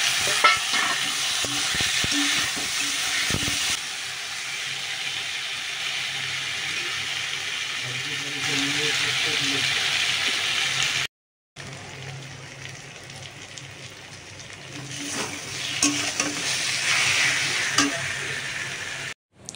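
Taro stolons and onion frying in a pan, stirred and tossed with a spoon over a steady sizzle, close and prominent, with a brief break partway through.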